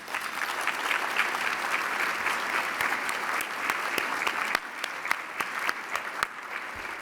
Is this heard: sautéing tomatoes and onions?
no